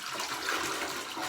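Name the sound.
waste water splashing while dumping a Thetford porta potty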